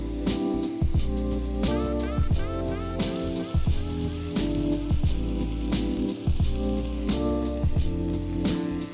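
Potatoes sizzle in a cast iron skillet, a continuous crackling hiss under steady background music.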